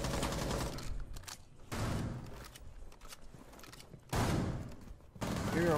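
Shotgun blasts in Rainbow Six Siege, several loud broadband bursts spaced irregularly, close and punchy with a short decay between shots.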